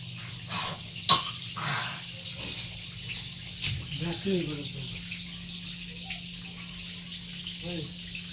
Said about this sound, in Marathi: लगेच पाणी पण सोडले